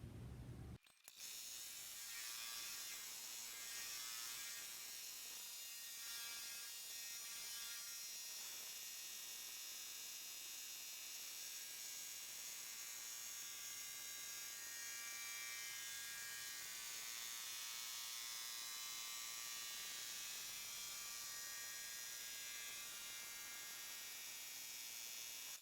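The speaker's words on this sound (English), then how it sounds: "we'll take it back to the machine and sew all of the satin stitching." An embroidery machine sews satin stitching on an in-the-hoop hanging pocket, giving a steady, loud, continuous mechanical buzz and rapid needle chatter that runs unbroken after a brief start, with no talking.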